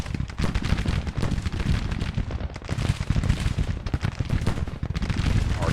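An artillery battery fires in Grand Tactician: The Civil War, a Civil War battle strategy game. Dense, loud rolling volleys of cannon and gunfire crackle continuously, with heavy booms layered throughout.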